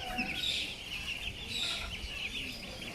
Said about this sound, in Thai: ไก่แบบกระทงเลยนะฮะ สวยสวย ตัวผู้ด้วย